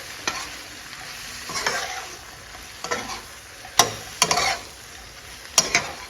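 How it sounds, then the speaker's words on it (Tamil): Food with idli podi spice powder being stirred and tossed in a sizzling pan, with scraping spatula strokes and a few sharper clanks against the metal over a steady frying hiss. "இப்போ எல்லாத்தையும் போட்டு பெரட்டி கொடுத்துடலாம்."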